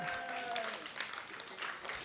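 Audience applause at a synagogue congregation's annual meeting, a dense patter of clapping filling a room for about two seconds with steady level and no voices over it.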